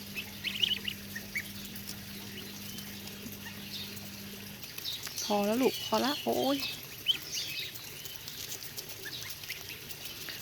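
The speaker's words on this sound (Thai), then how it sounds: "พวกนี้เป็นห่านโทเล้า ยังเป็นลูกห่านอยู่ค่ะ" High, wavering peeping calls from Toulouse goslings burst out briefly in the middle, with a person talking nearby and a low hum early on.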